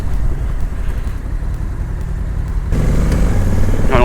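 Engine of a Honda Africa Twin 1100 DCT motorcycle on a ride, a steady mid-pitched drone with wind rush, growing louder and rougher as it accelerates in the last second.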